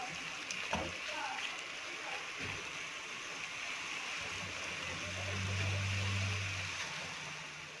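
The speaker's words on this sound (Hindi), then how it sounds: "बस इसको थोड़ा सा ही भूनना है, ज़्यादा नहीं पकाना। तेज़ आंच पे हम इसको जल्दी जल्दी पकाएंगे।" Chicken fries fast in a pan over high heat for a quick pasta dish, with a steady, loud, broad sizzle that runs through the whole stretch and swells slightly near the end.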